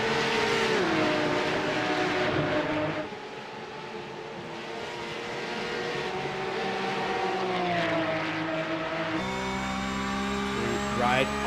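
Race car engines howl at Le Mans in a sim racing game, sustained high revving that shifts pitch through gear changes, running loud and steady beneath excited commentary.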